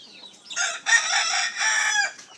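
A rooster at a Jamaican yard gives a loud, close crow in a few rising, drawn-out bursts with no one speaking over it.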